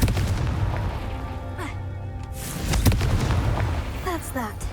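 Confringo, a fire-blast spell from the Hogwarts Legacy video game, goes off as a deep booming burst midway, with an earlier whooshing swell, over a steady low game-ambience rumble and music.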